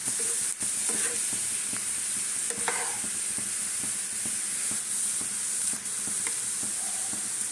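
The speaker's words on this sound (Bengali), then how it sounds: "এইভাবে একদম মুচমুচে করে ভেজে নিতে হবে" Thinly sliced ingredient for a flattened-rice snack deep-frying until crisp in hot oil, a steady close bubbling sizzle throughout with faint occasional stirring clicks and no talk.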